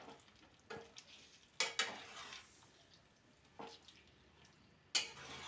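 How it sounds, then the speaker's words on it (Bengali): A spoon stirs dhonia palak chicken in a sizzling pan, turning the mixture over in a few separate scrapes and clatters above a low, quiet frying hiss, with no talking. "এবার হালকা হাতে সুন্দর করে ওপর নিচ করে রান্না করে নিতে হবে"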